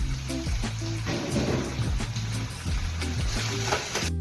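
Coriander crackles and sizzles in hot oil for a tempering, a continuous close frying hiss with small popping bursts and faint clinks of utensils in a home kitchen.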